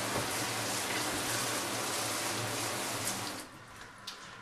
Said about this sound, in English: We'll also check the pressure and the water temperature inside the shower.